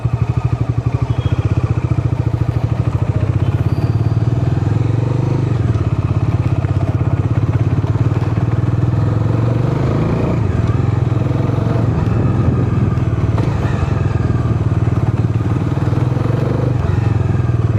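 A Bajaj Dominar 350 motorcycle on a test ride runs with a steady engine drone that rises and eases with throttle, close and continuous.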